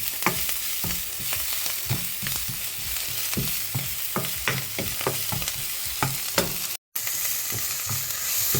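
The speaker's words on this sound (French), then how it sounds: "On continue à mélanger." Spinach stirred in a frying pan, a rhythmic run of utensil scrapes and clicks over a steady close sizzle, with a brief cut to silence near the end.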